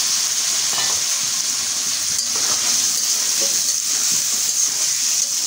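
Potatoes added to shrimp frying in a pan for a shrimp and bottle gourd greens dish, a continuous loud sizzle with light stirring and scraping throughout, no voices.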